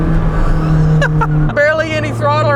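Supercar engine droning at barely any throttle while cruising on the freeway, a steady loud low hum that drops in pitch partway through, with someone talking over it.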